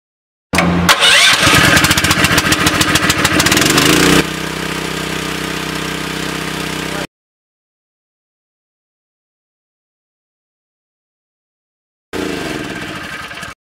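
The petrol engine on a 14 m trailer-mounted articulated boom lift cranks and catches, roars loudly, then settles to a steady close idle before stopping. After a long silence it runs again briefly at the end, with no talking.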